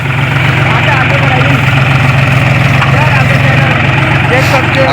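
A tractor engine drones during a paddy harvest, a loud, unbroken low rumble that holds steady throughout with a busy rattling layer on top.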